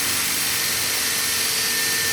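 A drill bores through a dried birdhouse gourd with a steady high-pitched whine and grinding, loud and close, running continuously without talk.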